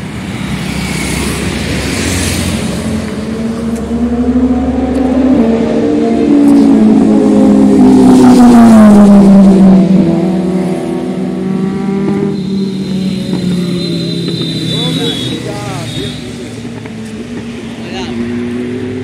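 A Kawasaki Ninja Z900 motorcycle engine revs up and settles, a loud close-up roar rising and falling in pitch, with someone talking over it much of the time.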